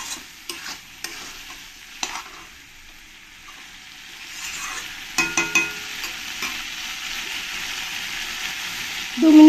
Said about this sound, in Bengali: দিয়ে ভালো করে আমি আবার 2-3 মিনিট ধরে এরকম করে কষিয়ে নেব।